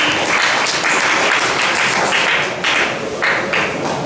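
An audience applauds during a student coordination visit to university faculties at UNIKIN, a dense, steady wash of clapping that carries on without pause for several seconds, with only a brief dip near the end.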